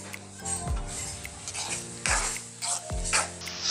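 Ketchup is stirred into a simple spaghetti sauce in a pan: soft sizzling with scraping spoon strokes and a few sharp clinks against the metal, close up, with no talking.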